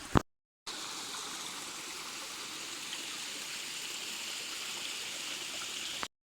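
A river stream flowing on a countryside walk, a steady broadband rushing and trickling wash that runs evenly and close for several seconds after a brief bump at the start.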